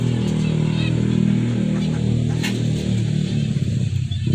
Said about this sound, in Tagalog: So wait lang, may motor maingay.